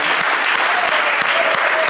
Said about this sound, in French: Est-ce qu'on peut donner une main d'acclamation pour ça?